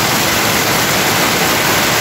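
Heavy rain water pours off a roof into a canal, a dense, loud, unbroken rushing wash with no pauses or voices.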